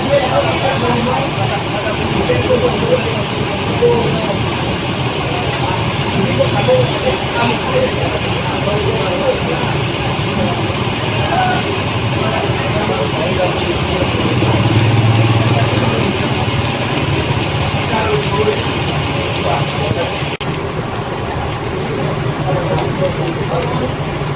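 Buses idle and pull out at a busy terminal under a drizzling rain, a steady broadband engine rumble with traffic wash and background chatter, a voice talking over it throughout.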